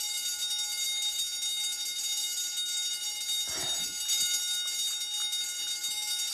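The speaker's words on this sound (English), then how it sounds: "is there any way to turn this alarm off?" A school alarm rings steadily and loudly throughout, a continuous bright tone sustained from start to finish, with a brief burst of clatter and movement partway through.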